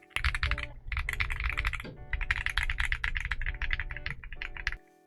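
Fast, steady typing on a keyboard with Akko Creamy Purple Pro tactile switches, close and clear, with rapid keystrokes in bursts separated by brief pauses.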